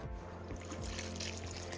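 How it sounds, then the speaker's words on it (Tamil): Water is poured into a cooking pot of bottle gourd and chana dal rice, a short, soft trickling splash close by that runs through the whole stretch. "திட்டமாக 1 கப் தண்ணி சேர்த்துக்கலாம்."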